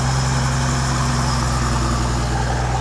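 An off-road vehicle engine runs steadily along ATV tracks in rough terrain, a loud continuous low rumble with a constant idling-like hum and no voices.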